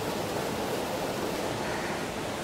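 Steady broadband rush of a waterfall cascade carrying brownish peaty water, a constant close roar with no pauses.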